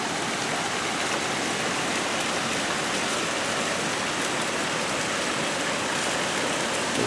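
Heavy rain pours steadily outdoors onto potted fig trees beside a greenhouse, a dense, unbroken hiss of countless drops that stays loud and even throughout, with no voices.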